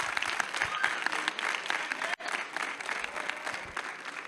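Audience applause for Governor Lamont at a high school event, dense continuous clapping from a crowd in a room, fairly loud and steady with a brief dip midway.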